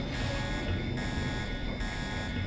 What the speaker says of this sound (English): turrets are actually very hostile when an alarm is going off